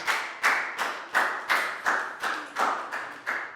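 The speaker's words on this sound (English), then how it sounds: "High five and a big round of applause for Bangpon, please, guys." Students in a school lesson clap in a slow, sparse round of applause, about nine distinct hand claps spaced evenly, sharp and fairly close with no talking over them.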